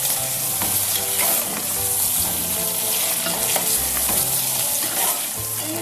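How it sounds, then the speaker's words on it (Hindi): Chicken pieces stir-fried for chicken kachnar, a steady loud sizzle with repeated scraping stirs against the pan, continuous throughout with no voices. "चिकन को हम इस तरह भूनेंगे थोड़ा।"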